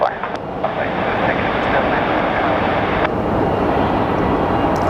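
An airplane taxis at Phoenix Sky Harbor International Airport, its engines giving a loud, close, steady roar throughout.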